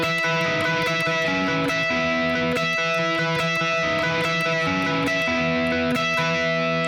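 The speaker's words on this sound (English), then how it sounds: "So that intro riff is the main riff of the song, and it'll sound like this." An electric guitar plays the intro riff of The Great Escape by Boys Like Girls, a loud, distorted, steady repeating riff that holds unbroken through the whole stretch with no talking.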